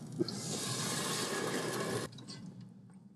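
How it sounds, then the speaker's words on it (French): Water gushes steadily into a pot of Thieboudienne for about two seconds, then stops abruptly, leaving faint drips and quiet room noise. "Là, on rajoute l'eau maintenant."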